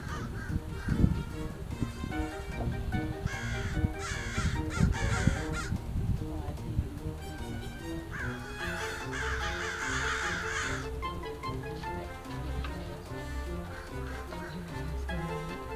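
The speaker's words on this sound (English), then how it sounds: "Trying to scare the crow away." Crow cawing repeatedly outdoors, loud harsh calls in bursts over a busy background with music-like tones, while someone works on homemade screen inserts for camper van windows.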